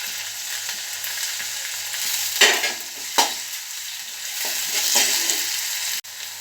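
Tomatoes hit hot oil in a pan, letting out a steady close sizzle with a few louder bursts as they are stirred, then the hiss cuts short near the end.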